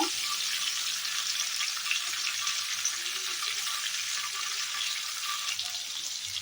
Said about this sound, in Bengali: তারপর খুব ভালো করে এটা তেলের মধ্যে আমি নাড়াচাড়া করে ভেজে নেব